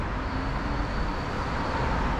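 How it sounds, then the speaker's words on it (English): Steady rush-hour road traffic outside a church in Dublin, a continuous broadband roar of passing cars with no breaks, loud and close, with no voices. "Sorry about the traffic noise, it's horrendous, it's rush hour."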